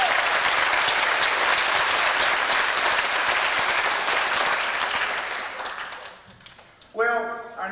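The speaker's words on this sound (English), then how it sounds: "let's hear it for the Reverend Darrell Lake" Sustained audience applause after a stage act at a variety show, loud and dense for several seconds before tapering off, then a voice speaks at the end.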